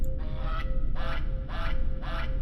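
A rubber goose toy squeaks four times in a steady rhythm, each honking squeal roughly half a second apart over a low background hum.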